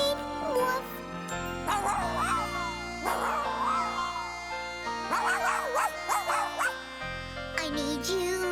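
In a children's cartoon, a dog gives short yipping woofs over a sung melody with musical accompaniment, the barks mixed in with the singing at moderate loudness.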